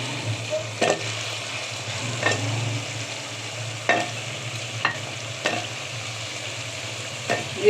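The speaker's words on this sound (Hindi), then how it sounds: "पहले आलू डाल के उन्हें अच्छी तरह से भून लूँगी" Potatoes frying in a pan for aloo palak, a steady low sizzle with several sharp spoon scrapes and knocks against the pan at irregular intervals, close and fairly quiet.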